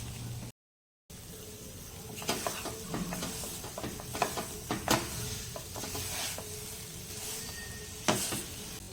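A spoon scrapes and stirs through a thick amla mixture for amla candy in a pan, with a light sizzle underneath and occasional sharper knocks against the metal.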